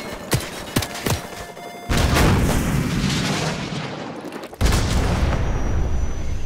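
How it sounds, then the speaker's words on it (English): Stinger missile launch at a helicopter in Call of Duty 4 Modern Warfare Remastered, with a few sharp metallic clicks and thumps, then a loud sudden roaring whoosh that cuts out briefly and surges again, close and powerful. "So, grab another Stinger and fire again."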